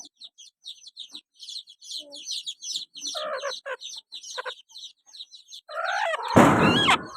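White chicks in a brooding basket peep in a rapid stream of high, overlapping chirps, with some lower clucks and a sudden loud rustle or thump near the end.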